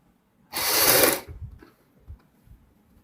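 A sewing machine stitches a kurti seam in one short, loud, close burst, followed by faint handling noises.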